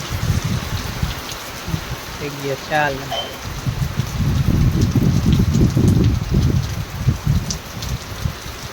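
Steady rain patters down in a broad hiss, with a voice speaking over it partway through.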